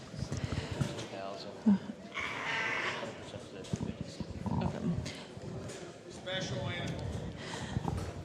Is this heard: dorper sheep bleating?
yes